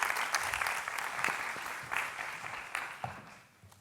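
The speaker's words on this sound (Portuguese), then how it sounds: "uma salva de palmas à Isabel Cristino" An audience applauds after a presentation, dense clapping that is loud at first and gradually thins and fades toward the end.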